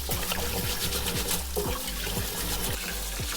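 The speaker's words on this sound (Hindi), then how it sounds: "तो हमने तब तक वॉश करना है दाल को जब तक साफ पानी निकल के नहीं आता" Water runs and splashes steadily over lentils being rinsed for dal makhani, a continuous close wash with soft, regular low knocks beneath it and no talking.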